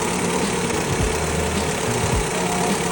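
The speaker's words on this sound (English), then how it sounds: "So this is the engine" A 1.3-litre petrol car engine idles nearby with a steady, low rumbling hum, and two brief dips in tone mark small changes in revs over a few seconds, with no talking.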